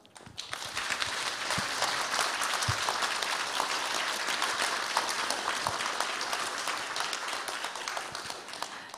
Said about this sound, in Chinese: 让我们以热烈的掌声欢迎让·巴蒂斯特·罗宾教授